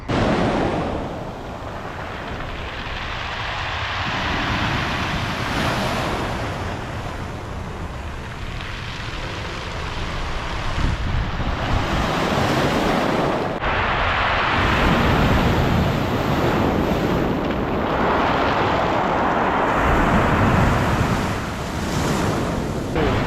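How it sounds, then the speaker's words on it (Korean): Waves washing onto a pebble beach in Nice, a continuous loud rushing surf that surges and recedes in broad swells, mixed with gusty wind buffeting the microphone. "조약돌이라서 파도 소리가도 다르게 들리네"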